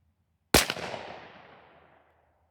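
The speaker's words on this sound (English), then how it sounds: "we'll back out to 25 yards, and we'll shoot a group right there at that middle dot" A single loud shotgun blast from Winchester Defender 00 buckshot fired through a full choke at a 25-yard target: one sharp crack with a long echoing tail fading over about a second and a half, no voices.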